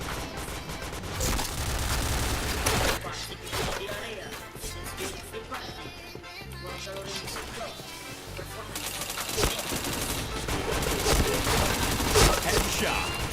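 Dense, continuous bursts of rapid gunfire from the Point Blank first-person shooter run throughout, loud and layered, with voices talking over the shooting.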